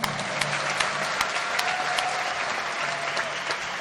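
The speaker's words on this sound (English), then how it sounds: "Ladies and gentlemen, will you please give them a big round of applause?" Audience applause at the inaugural function of a North East inter-state badminton championship, a steady dense wash of clapping from a seated crowd that holds at even loudness with no voices over it.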